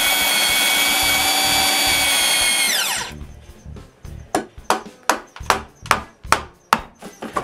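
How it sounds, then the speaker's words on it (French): Power drill boring mortise holes in wood for trestle legs: a loud high whine winds down after three seconds, followed by a series of sharp, evenly spaced knocks and clatters up close. "je perce 4 trous pour la mortaise"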